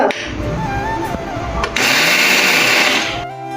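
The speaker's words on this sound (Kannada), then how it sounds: "ಆನಂತರ ಇದು ಮಿಕ್ಸಿ ಜಾರಿಗೆ ಹಾಕಿ" A kitchen mixer grinder whirs steadily while grinding soaked batter for masale paddu, a loud continuous motor drone that rises in pitch and intensity partway through before cutting off.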